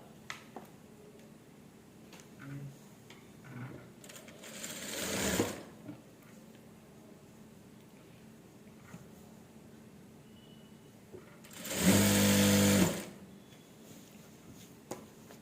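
A sewing machine stitches the hem of a petticoat in two short bursts of fast mechanical whirring, the second louder, amid quiet handling and faint clicks.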